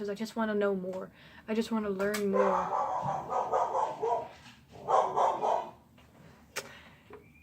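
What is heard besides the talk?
dog barking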